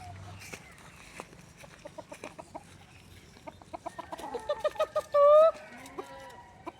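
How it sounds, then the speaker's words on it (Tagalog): A chicken clucks in short repeated bursts, close by, with a louder squawk near the end over quiet background noise. "aking alagang manok na ito"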